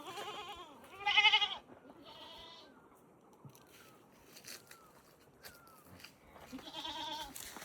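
Goats in a Himalayan village bleat in several close, wavering calls, with quieter rustling and movement between the bleats.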